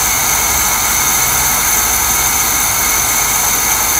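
A K5 engine runs loud and steady, close up, as its throttle valve is opened, a dense unbroken mechanical roar with a high whine and no voices.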